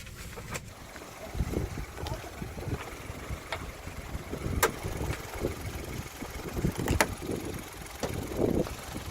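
A 2015 Kia Ray's Kappa petrol engine idles steadily at close range, a low continuous rumble with faint clicks and rattles and no talking.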